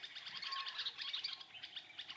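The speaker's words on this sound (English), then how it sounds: "In the skies above, over 500 bird species take flight" Birds chirping and tweeting on the Serengeti plains of Tanzania, a dense layer of high, overlapping calls from many birds that carries on steadily throughout at moderate distance.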